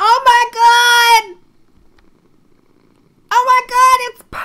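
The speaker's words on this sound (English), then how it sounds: "Oh my god, it's purring!" A Minecraft cat makes two loud, drawn-out synthesized calls, close and clear, separated by a couple of seconds of near silence.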